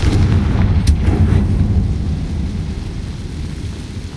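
A Confringo blasting curse goes off in Hogwarts Legacy, a heavy rumbling explosion with a sharp crack near the start, then a long, low roar that slowly fades, with no talking.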